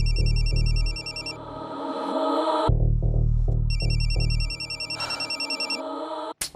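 An incoming call sets off a telephone's electronic ringtone, heard loud and close. The melody repeats in bursts with short pauses between rings, and no one speaks.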